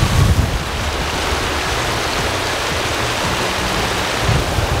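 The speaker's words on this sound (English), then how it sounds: "we're crossing the first river crossing and it is frigid" Water splashes and rushes steadily as people wade across a frigid river, with a rough windy roar over the top and no voices.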